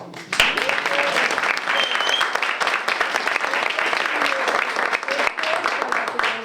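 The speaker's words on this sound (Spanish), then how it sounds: "Un aplauso para Inmaculada Molinero." An audience at a storytelling event applauds a guitarist with sustained, loud clapping from many people, with some voices and faint cheering mixed into the steady applause.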